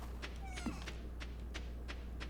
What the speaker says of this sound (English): I think I heard the kitty meow.